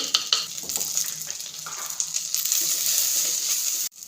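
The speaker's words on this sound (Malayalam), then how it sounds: "ചക്കച്ചുള ചെറുതായിട്ടൊന്ന് സോഫ്റ്റായി വരുന്നിടം വരെ ഒന്ന് വഴറ്റി കൊടുക്കാം" Pieces of raw green jackfruit sauté in a pan with salt and turmeric, a steady soft sizzle with light stirring scrapes near the start and a sharp knock just before it cuts off, no one talking.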